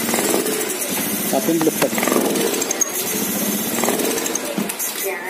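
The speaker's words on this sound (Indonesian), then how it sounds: "Kondisi soket terlepas. Kita coba tarik gas." A motorcycle engine with its throttle position sensor socket unplugged revs roughly with a rattly, uneven buzz, while someone talks briefly over it.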